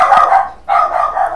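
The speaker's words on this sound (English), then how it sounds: "That's my dog." A dog gives two loud, close barks in quick succession.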